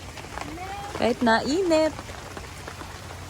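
Rain falls steadily on surfaces outdoors during a stormy day, a soft continuous patter beneath a person speaking close by.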